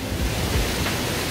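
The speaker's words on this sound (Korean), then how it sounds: "저기도 완전히 폭포예요, 여기." The large Mujoochae Waterfall in a rocky, mossy valley at Gapyeong, South Korea, rushes in a constant, dense roar of falling water heard up close, with no voices.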